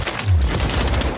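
Call of Duty game gunfire in a firefight inside a base perimeter: a rapid burst of automatic shots with a heavy low thump near the start, continuous and loud throughout.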